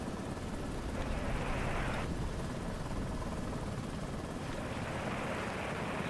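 Continuous whirring rotor drone of a helicopter in a storm over a cargo ship in the video game Lazaret, steady and close with slight pulsing swells in the mid range.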